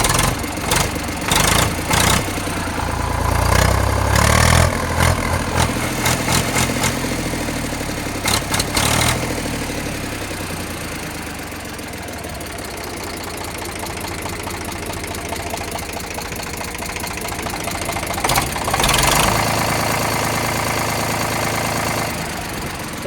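A tractor engine idles with a steady low chugging rhythm, broken by a few sharp bursts and clatters near the start, around nine seconds and again near nineteen seconds, without any talk.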